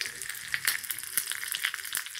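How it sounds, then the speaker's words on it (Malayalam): Green chilies and curry leaves frying in hot tempering oil for a vellarika pachadi tempering, a steady bright sizzle with scattered crackles and pops, close and moderately quiet, with no voices. "പച്ചമുളകും കറിവേപ്പിലയും ഇട്ട് കൊടുക്കാം"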